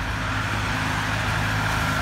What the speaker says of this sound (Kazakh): Романтиканы құртатын машина